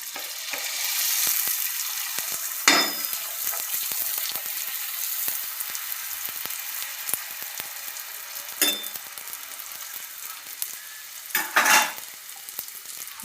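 Puris for pani puri deep-frying in hot oil and pressed down with a slotted spoon, a steady close sizzle with a few louder bursts of crackling spatter as dough goes in or is pressed.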